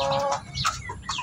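A newly bred chicken gives short clucking calls, a few quick bursts close by, heard alone without talk.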